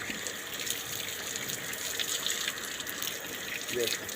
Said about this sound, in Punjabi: ਸਿਰ ਤੇ ਪਾਣੀ ਪਾਈ ਚੱਲ ਜੇ